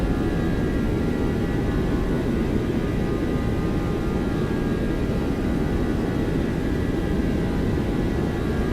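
Boeing 737-800 jet engines spooled to takeoff thrust in the X-Plane flight simulator, a loud, steady broadband roar with a faint high whine, unbroken throughout and with no voices.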